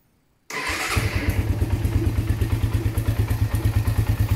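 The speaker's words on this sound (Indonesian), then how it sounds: "Sekarang kita cek suaranya, suara mesinnya." A used Suzuki Satria FU motorcycle engine fires up after brief silence and settles into a steady, close, rhythmic running beat, slightly rough with a ticking clatter.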